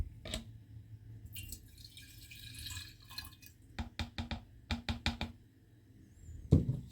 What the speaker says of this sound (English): this is the lemon juice.